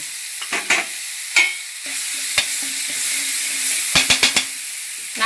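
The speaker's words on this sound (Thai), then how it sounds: "น้ำมันโอลีลงไปหนึ่งช้อนแกง ผัดพริกแกงให้หอม" Curry paste stir-fried in a spoonful of olive oil in a pan for a pumpkin and mushroom curry: a steady low sizzle with scattered scraping and clacking strokes of a spatula, including a quick burst of several near the end.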